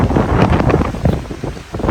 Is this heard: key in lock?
no